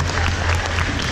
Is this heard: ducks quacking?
no